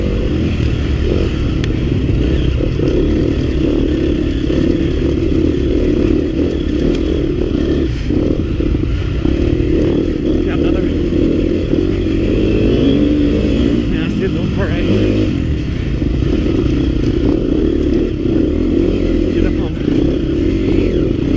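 A KTM 250 XC-F dirt bike engine rides a trail and stays loud and continuous, revving and varying with the throttle. The engine is close, and rattling and clatter from the rough terrain run underneath.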